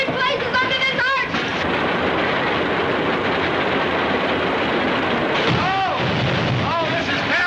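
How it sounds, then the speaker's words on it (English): Rumbling thunder sound effect in a 1936 comedy film rolls continuously and loud, with shouted voices and cries breaking in at the start and near the end. "Listen to that thunder."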